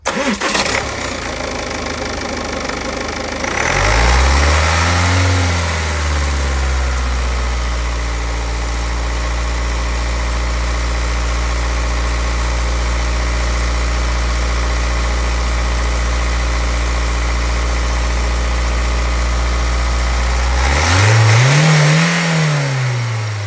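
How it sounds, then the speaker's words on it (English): A 2016 Ford Kuga diesel engine cranks and catches, then settles into a steady, loud, low rumbling idle with a brief rev near the end. "Now I'll push the clutch down and start the engine."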